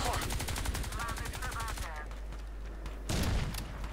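Rapid gunfire in the video game Crysis 2 multiplayer, a quick run of repeated shots followed by a pause and another short loud burst, with a low steady rumble underneath.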